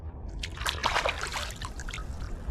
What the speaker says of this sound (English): It's squirting water out.